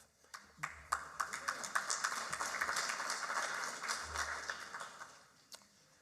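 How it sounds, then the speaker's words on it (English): Audience applause at an economics forecast talk, steady, dense clapping rising and then fading over several seconds, with a few isolated claps at the start and end. "The only reason that doesn't get more applause is some of you haven't been through it"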